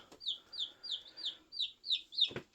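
Baby chicks on an off-grid homestead peep in a steady series of about seven high, clear chirps, evenly spaced and close, with a soft thump at the end.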